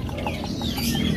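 A tame pet bird offered for sale with its cage gives a run of short, repeated clucking calls, close and fairly loud, with no talking over them.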